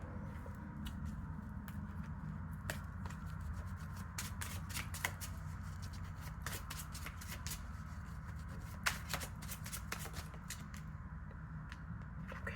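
Tarot cards shuffled by hand, steady soft riffling and rubbing with sharp flicks and slaps scattered throughout, close and quiet with no talking.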